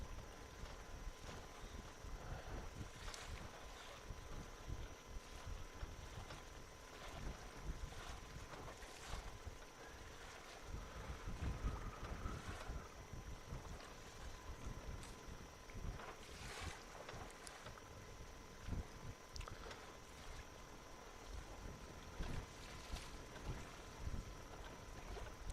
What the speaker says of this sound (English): we're pretty exposed out here, the wind's blowing at a decent pace